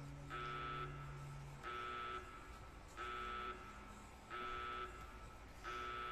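Five evenly spaced buzzy beeps from Fallout: New Vegas repeat at a steady rhythm, each about half a second long, loud and clear, with a low steady hum under the first stretch.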